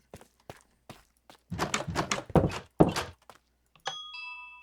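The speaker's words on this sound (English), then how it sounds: "Got a nice doorbell." A doorbell made from note blocks resting on quartz crystal blocks in Minecraft Java Edition chimes with a short run of bright pitched tones near the end, following a series of game footsteps and thuds.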